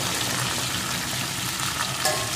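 Cut potato pieces, salted and tossed with spices, fry in hot oil for a fish curry, giving a loud, continuous sizzle with occasional stirring scrapes throughout.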